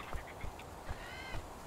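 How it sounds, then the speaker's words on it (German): A bird calls in the video game Survival: Fountain of Youth, giving short quacking, duck-like cries that repeat several times at moderate distance over quiet ambient background. "Und ein Vogel hier oben."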